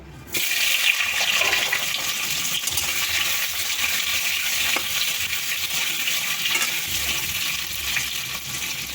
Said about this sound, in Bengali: এবার ওতে সিদ্ধ করা আলু ঢেলে দেবো